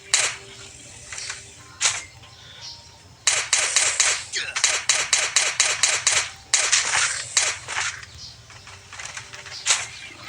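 Crossbow shots in the survival video game Last Day on Earth snap out in quick sharp bursts, some in rapid clusters, over a low background hum.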